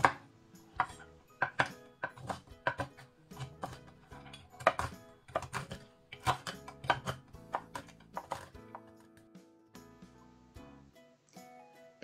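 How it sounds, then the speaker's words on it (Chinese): Large almonds are chopped with a knife on a board in irregular rapid bursts of crisp knocks, some strokes louder than others, with brief pauses between flurries and no voices. "再准备一些大杏仁儿， 切碎。"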